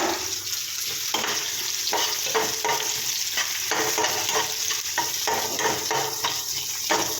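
Mushroom gravy paste being stirred in a frying pan, giving a continuous loud sizzle with rhythmic scraping strokes throughout.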